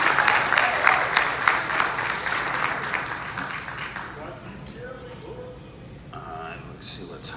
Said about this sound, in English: I want you guys to give them a round of applause